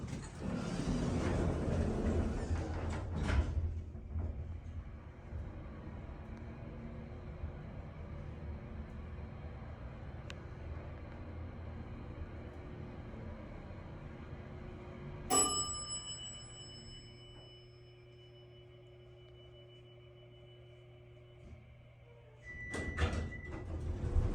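An Esco hydraulic service elevator rides down, with a low steady hum of the car in motion, a clunk and chime partway through, then a quieter hum and a thump near the end; no one speaks.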